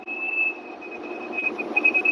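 A thin, steady high squeak comes from a big rig truck cab while driving and runs over the low road rumble, growing sharper and more insistent toward the end.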